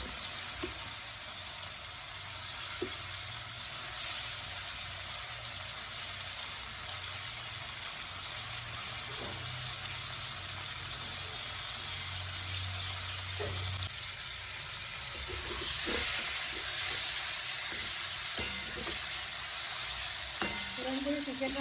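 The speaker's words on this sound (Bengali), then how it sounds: "চিকেনটাও একটু হালকা করে ফ্রাই করে নিচ্ছি" Chicken frying in hot oil with spices, a steady bright sizzle with occasional stirring scrapes and clatter throughout.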